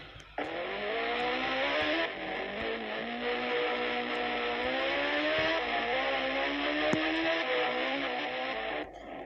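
A motorcycle engine in a video game revs steadily with rising and falling pitch, a smooth synthetic drone held for several seconds before cutting off abruptly.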